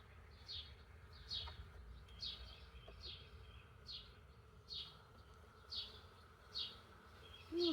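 Bees in a full hive, a steady low buzzing hum under a soft background, with faint repeated high chirps that sound like birds in the distance.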